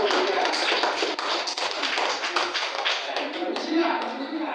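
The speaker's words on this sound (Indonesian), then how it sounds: "kasih tepuk tangan" A crowd applauding steadily throughout, dense overlapping claps with no pauses, fairly loud and close.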